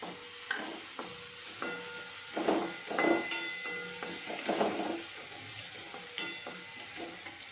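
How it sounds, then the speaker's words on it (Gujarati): Garlic sizzles in a hot pan while cooking for paneer paratha, a steady hiss with scraping stirs and tonal clinks of a utensil against the pan, close and alone. "હવે લસણ નાખી દઈશું"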